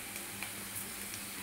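Cumin seeds sizzle in hot oil over onions already fried with chopped green chili, a steady, quiet hiss with faint crackles throughout.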